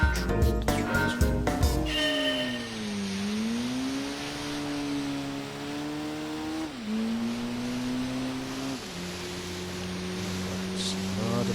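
Car engine in the racing game Gran Turismo 3 holds a steady, loud drone that rises and falls with throttle changes, with brief revving bursts near the start and gear shifts later; no talk.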